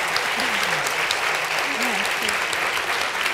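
Indoor audience applauding after an author talk, steady dense clapping from a crowd throughout, with a voice speaking over it.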